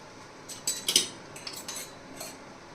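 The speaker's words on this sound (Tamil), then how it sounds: "இப்போ இதெல்லாம் சேர்த்து வறுத்துப்போம்." Chillies, coconut and tamarind being dry-roasted in a pan, heard as a short burst of light metallic clinks and scrapes from a utensil against the pan, then quieter scattered taps, close and without talk.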